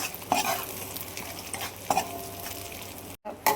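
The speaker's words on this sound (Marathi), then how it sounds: "सुकं खोबरं टाकून घेणार आहे. चांगलं भाजून घ्यायचं आहे बघा." Dry grated coconut roasts in a pan for a spicy mutton curry, giving a steady, close sizzling hiss with a few sharp spatula scrapes and knocks as it is stirred, broken briefly by a moment of silence.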